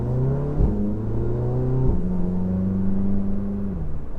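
Audi A3 (MK7) with a throttle response modification pulling away from a stop, engine note climbing through gear changes with a brief dip near two seconds, heard from inside the car with no talk.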